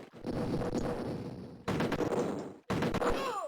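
Explosions and gunfire in the 1993 Amiga game Cannon Fodder come as loud bursts of rattling shots and booming blasts, broken by two abrupt cuts, with a rising whistle near the end.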